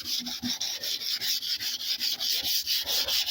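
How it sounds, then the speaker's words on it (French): A black Peugeot 306's metal tailgate being hand sanded with light pressure, a steady, close back-and-forth rasping in quick regular strokes with no talk. "le ponce pas trop forcé parce que sinon on va marquer la tôle"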